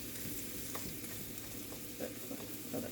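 Flour stirred and cooking in butter in a pan for sausage gravy, a steady soft sizzle with faint scraping stir strokes throughout, close and fairly quiet, no voices.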